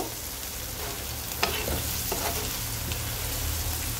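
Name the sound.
spices being stirred and fried in a pan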